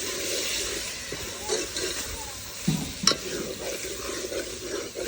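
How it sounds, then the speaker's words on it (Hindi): Bone-in meat fries lightly in a pot, giving a soft continuous sizzle with occasional stirring scrapes and clinks, fairly quiet and close. "अभी इसकी हल्की सी कर लेंगे भुनाई"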